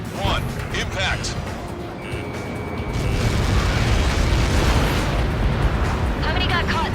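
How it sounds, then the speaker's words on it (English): A massive blast in the combat flight game Ace Combat 7, a deep rumbling roar that swells and holds loud for several seconds, with radio chatter and other game sounds over it. "How many got caught in that explosion?"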